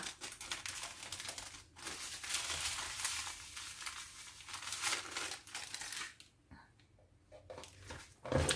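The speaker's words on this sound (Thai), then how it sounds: "ขยำเลยค่ะ ขยำให้เอาน้ำของมะระออกมานะคะ" Wet, crinkly squishing and rustling as sliced bitter gourd is squeezed and kneaded by hand with salt, continuous and close, fading briefly near the end.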